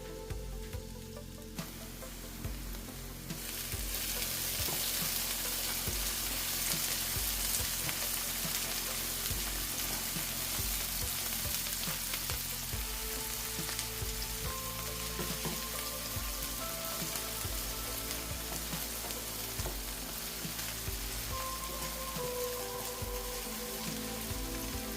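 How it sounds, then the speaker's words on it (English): Two large chopped onions sauté in hot oil for a spicy chicken stew, a dense, steady sizzle that starts quietly and then swells to a loud, continuous frying hiss with no talk. "You keep frying the onions until they are golden brown."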